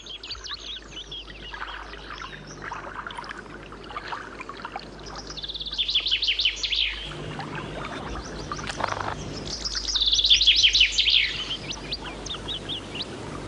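Many birds chirp and sing across the Caledonian forest in summer, overlapping calls near and far, with a few brighter, louder bursts of song standing out.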